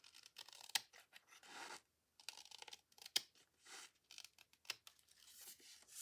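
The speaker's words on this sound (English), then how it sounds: "I better cut that with scissors" Scissors snipping through a paper sample for a journal, a run of short crisp cuts and crunchy paper rustles at close range, with brief pauses between strokes and no talking.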